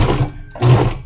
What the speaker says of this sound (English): Can I leave the audio on now when I sew, or is this still too loud?